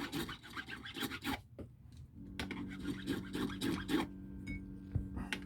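A high fret on a vintage Japanese Greco Stratocaster is rubbed down by hand, giving close, repeated scratchy rasping strokes in a steady back-and-forth rhythm, with faint tonal hum in the background.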